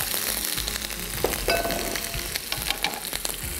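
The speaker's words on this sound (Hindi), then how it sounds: "इसको जो है हम अब थोड़ा सौते कर लेते हैं, लहसुन अदरक, और इसके साथ ही साथ इसमें फ्राई करेंगे दाल" Garlic, ginger and lentils fry in a pan with a steady, close sizzle, broken by brief stirring scrapes and clinks, and no voices.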